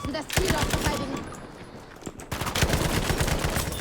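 Type 11 LMG light machine gun firing in Battlefield V, rapid bursts of close automatic shots separated by a brief lull, with faint voices in the mix.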